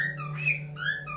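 Indoor birds squawking and whistling nearby, with two loud, sliding whistled calls separated by a brief pause over a steady low hum, and no talking.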